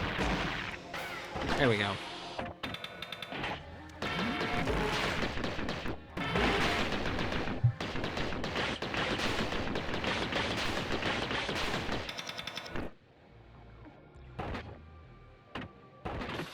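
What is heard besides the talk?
rockets firing in the video game Gato Roboto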